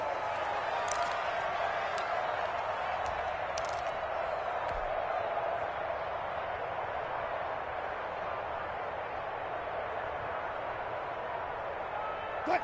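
A loud, steady roar of a video game football stadium crowd fills the whole stretch, with a few sharp bursts of cheering rising above the din.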